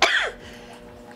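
A single sharp sneeze bursts out close by at the start, then trails off into quiet room tone.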